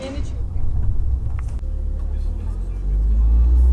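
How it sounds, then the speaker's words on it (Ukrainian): A minibus pulls up with a steady low engine rumble that swells louder toward the end, heard close by beneath people talking. "вже приїхала наша маршруточка, чи автобус, чи що це"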